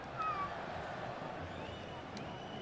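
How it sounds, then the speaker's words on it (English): A cat meows in the room, a faint rising-falling call heard briefly near the start over a steady background of football game commentary and crowd noise. "The damn cat, so impatient."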